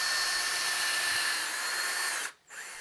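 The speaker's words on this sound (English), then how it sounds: "So I'll line them up, clamp everything down, and drill." A power drill bores holes through stacked wooden side pieces clamped together for a rustic wall-mounted wine rack, whining steadily and loudly at close range for over two seconds, then stopping briefly before spinning up again.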